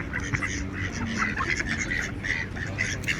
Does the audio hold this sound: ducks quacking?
yes